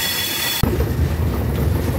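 The Chitra Express rolls onto the Bangabandhu bridge with a loud, close, steady rumble of wheels on rails, and a faint squeal sounds before the noise abruptly deepens.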